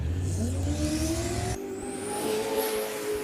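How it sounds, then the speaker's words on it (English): Jet sprint boat racing around a pond course with flame out of the exhaust, its engine screaming and rising in pitch as it accelerates, then dropping and climbing again as it passes close by. "Flame out the exhaust as well as it gets around the pond."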